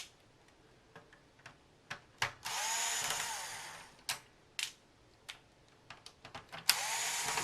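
Screws being taken out of a Nintendo NES console, heard as a run of small close ticks and clicks with two short bursts of whirring from a power screwdriver.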